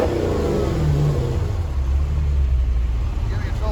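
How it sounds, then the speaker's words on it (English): Porsche 997 fitted with a Mopar 392 HEMI engine revs loudly and steadily up close on a road, a deep continuous rumble with speech faintly underneath. "Rev the engine."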